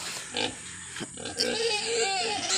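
Pigs, including a two-month-old pig and a sow with piglets, grunt in a backyard pen in a short close burst of squeals and snorting grunts with some nasal calls, fairly loud throughout.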